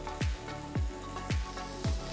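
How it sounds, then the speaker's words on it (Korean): Shrimp fry in about a tablespoon of oil in a pan over high heat, a steady sizzle broken by four evenly spaced low thuds as the pieces are stirred. "불을 올리시고 새우부터 볶겠습니다."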